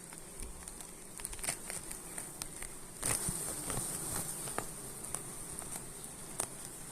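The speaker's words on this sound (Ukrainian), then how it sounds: "Ось вам Карпатка бджола." Carpathian honey bees from May swarms buzz steadily nearby, a high droning hum with scattered clicks and taps from the insects moving about.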